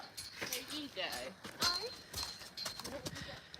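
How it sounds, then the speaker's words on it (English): Friesian horses clip-clop with scattered hoof steps on hard ground, close by, while a person talks over them and a gate rattles. "Trying to open a gate and trying to show you these beautiful horses."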